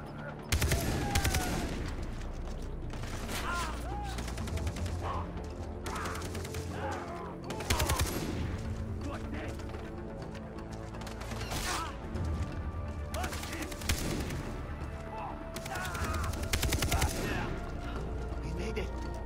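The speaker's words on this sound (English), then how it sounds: "Help! I'm getting shot at!" Gunfire in the Far Cry 3 game while running across a field: loud, rapid bursts of shots recurring every few seconds over a steady background din, with voices talking between bursts.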